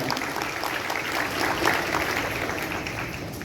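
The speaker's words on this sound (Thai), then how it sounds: "ขอเสียงปรบมือกับเจ้าสาวคนสวยของเราเลยครับ" Wedding guests applaud the bride in a continuous, even wash of clapping that holds steady throughout, with no speech over it.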